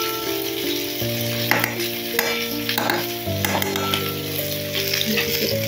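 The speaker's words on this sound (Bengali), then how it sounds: "অল্প তেল দিয়ে এটাকে খুব সুন্দরভাবে কষানো হয়েছে।" Rohu fish pieces fry with spices in a little oil, a steady close sizzle with intermittent scraping strokes of a spatula stirring in the pan.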